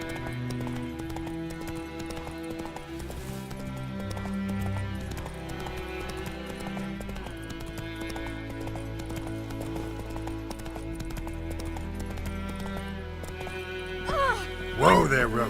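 Roach the horse gallops in The Witcher 3, rhythmic hoof clip-clops running steadily under a game music score, fairly quiet, ending with a sharper burst as the horse is reined in.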